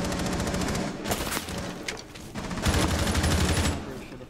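Gunfire from two different guns in Rainbow Six Siege, a steady rapid automatic rattle with sharper bursts layered in, continuous and moderately distant, under faint team chatter.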